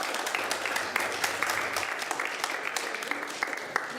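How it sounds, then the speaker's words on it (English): School board meeting audience applauding student performers, dense clapping with scattered sharp individual claps, steady throughout at moderate distance in an indoor hall. "round of applause for these amazing performances"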